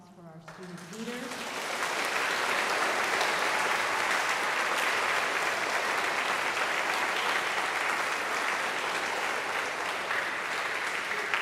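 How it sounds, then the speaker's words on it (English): An audience at an 8th grade school recognition event breaks into steady, full applause for student leaders, building quickly after a short spoken moment and holding strong for about ten seconds. "I would like you to give a round of applause for our student leaders."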